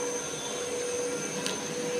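A CBP blood analyser machine runs in a small clinical lab, giving a steady, close whirring hum with a faint constant tone and a brief swell of higher noise near the end.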